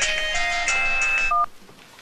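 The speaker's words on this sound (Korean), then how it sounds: "얼른 기준이한테 전화해봐라" A telephone number is dialed on a home phone, a rapid string of short electronic key tones close by, ending with a brief pair of tones and then quiet.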